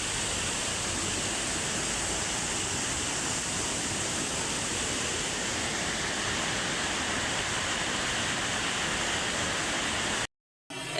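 Monsoon-swollen hill stream in Uttarakhand rushing under a small bridge, a loud, steady broadband roar that continues unbroken, alone, with a momentary dropout near the end.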